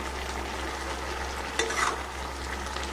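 Greens frying and being stirred in a pan, a steady low sizzle with a brief louder scrape of stirring partway through, close and alone.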